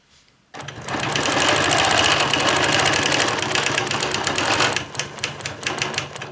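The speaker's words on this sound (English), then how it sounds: "Then we quilt this second line." A sewing machine stitches a quilting line guided by a Squiggy ruler, starting abruptly and running as a loud, fast, steady mechanical whir and rapid needle rattle for several seconds before easing slightly.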